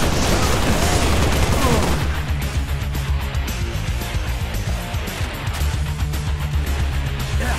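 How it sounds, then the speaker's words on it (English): An assault rifle fires in the video game Halo Reach, producing dense, rapid gunfire that rattles on throughout with little pause. The shots are loud and up close. "this gun is capable of firing in 2-round bursts by controlling your trigger finger"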